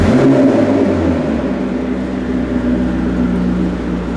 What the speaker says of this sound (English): getting in his 650S and ready to take it out